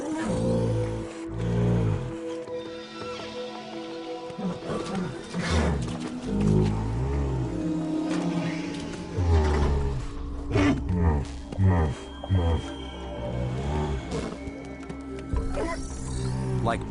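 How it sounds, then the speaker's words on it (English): A fictional alien herd animal, the unt, exhales through vents on its back, producing deep roaring, rumbling snorts repeated through a dense, busy scene with music or other creature sounds layered around them. "Unts are named after the sound they make when they exhale through their dorsal vents."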